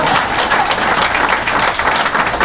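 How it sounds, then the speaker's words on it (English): Audience applause at a reception event, a steady dense wash of clapping from a crowd filling the whole stretch at an even, fairly loud level with no voices over it. "I thought I'd get applause for that"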